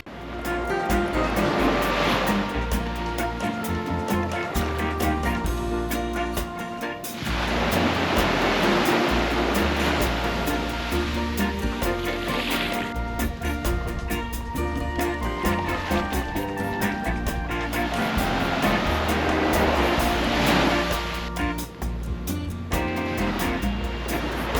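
Ocean surf on a Caribbean beach, waves washing in and breaking in broad recurring swells of noisy rush, loud and close with wind buffeting throughout.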